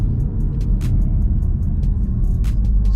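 Engine noise from a VW Golf R in race mode, played through the car's cabin speaker, comes as a steady low rumbling drone with scattered faint clicks and ticks above it, heard from inside the car with no talking.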